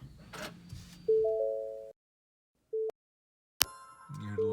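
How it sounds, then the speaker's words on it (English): A VAVA dual dash cam, model VA-VD002, mounted up front in a car, sounds a short electronic power-on chime, a few clean tonal notes in a quiet cabin, followed after a pause by a brief tone and then a brighter startup jingle. "You hear the little chime, it turns it on."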